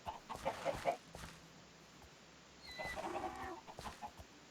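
Chickens clucking in Minecraft, a couple of short bursts of blocky game clucks separated by a quiet gap, near and alone with no voices.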